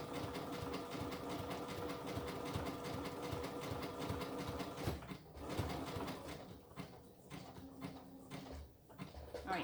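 A sewing machine stitches along the edge of a purse, running in a fast, steady rhythmic chatter that slows and pauses into shorter bursts toward the end.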